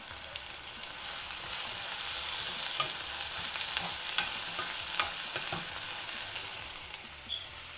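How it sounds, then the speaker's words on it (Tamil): Radish, carrot and green peas sautéing in a pan, giving a steady close sizzle and crackle with occasional scrapes and stirs, no voices. "அதுக்கப்புறம் முள்ளங்கி, கேரட், அப்புறம் பச்சை பட்டாணி. இந்த காயெல்லாம் வந்து நல்லா வதங்கட்டும்."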